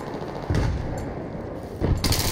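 An M16 rifle in the video game Battlefield 3 fires short bursts of gunfire, with sharp cracks at intervals over a steady rumbling game-battle background.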